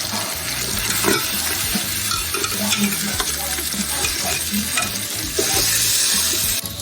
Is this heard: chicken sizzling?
yes